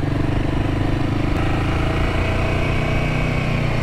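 A Royal Enfield Himalayan 450 single-cylinder motorcycle engine runs steadily and close by, a loud, even low thrum with a fast pulsing beat that holds for the whole stretch.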